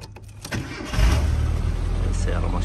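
Starter clicks and cranking on a 1975 Mini Cooper catch, and the small engine fires into a loud, steady low idle close by, with a voice briefly heard over it.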